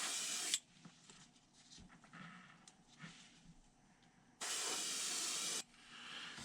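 An airbrush turned down to low pressure and feed lays paint onto a Plopper-style fishing lure, two bursts of steady close hiss, one brief at the start and a longer one near the end, with quieter handling noise between.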